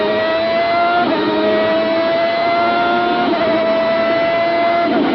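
Onboard engine of a 1992 Ferrari F92A Formula 1 car, a loud continuous high-pitched V12 wail that holds steady, dips briefly at gear changes and climbs again, with no voices.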